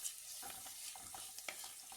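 Finely chopped onions sauté in a pan over a medium-low flame for a Kerala-style fish curry, giving a soft, steady sizzle broken by light stirring scrapes.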